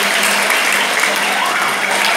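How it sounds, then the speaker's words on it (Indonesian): Students at SMPN 3 Narmada, a junior high school, clap together in a classroom session, a dense, steady burst of many hands filling the space at close range with no pause. "Tepuk tangan dulu semuanya."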